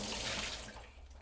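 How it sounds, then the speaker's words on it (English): Water sloshes and pours steadily as a big pot is emptied, a close, brief rush that tapers off, with no talk over it. "empty the water out, big pot out."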